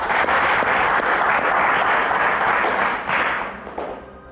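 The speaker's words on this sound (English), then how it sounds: "So a round of applause to Kehinde" Studio audience applause on a televised quiz show, dense steady clapping that fills the clip loudly and tapers off near the end.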